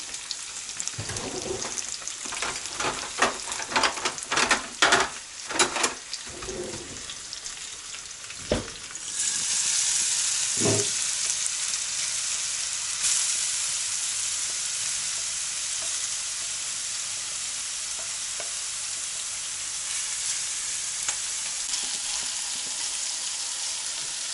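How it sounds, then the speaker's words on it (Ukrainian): Onions sizzle and crackle steadily in a hot pan, with a few sharp stirring clatters early on before the frying settles into an even hiss. "Беремо цибулю ну, так? Так. і смажемо."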